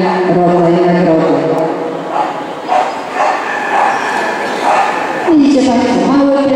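Small shelter dogs yap and whimper in short, repeated bursts during an agility show, with a commentator talking over them.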